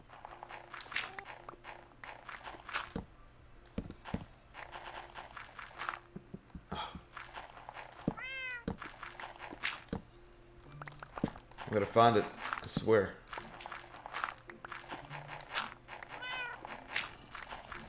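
Meowing cat in Minecraft, its calls repeating at intervals among footsteps and game noises, heard under someone talking through much of the stretch.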